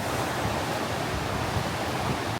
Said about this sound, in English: The water noise has increased, so we're definitely in the right place.